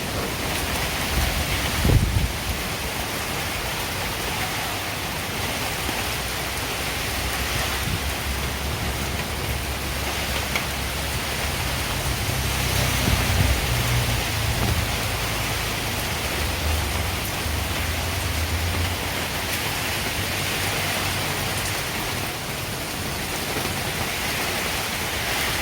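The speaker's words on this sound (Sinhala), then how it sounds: "මාර හුලං සද්දයක් තියෙන්නේ ඔය." Strong, gusting wind roars steadily through a stormy outdoor scene as heavy rain falls, a broad continuous rush that swells slightly midway, with a low rumble underneath and no talking.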